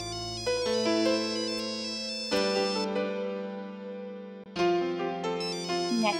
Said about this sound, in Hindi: नैतिक जी का फोन है।